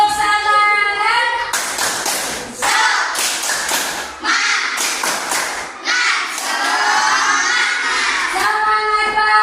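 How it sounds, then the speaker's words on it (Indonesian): A group of people clapping hands in a rhythmic cheer, loud bursts of claps close by alternating with voices chanting and shouting together. "Tepuk dulu tangan semangat."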